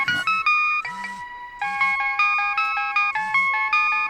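A mobile phone rings nearby with a bright, melodic electronic ringtone, its short tonal phrases repeating in a quick pattern over about four seconds.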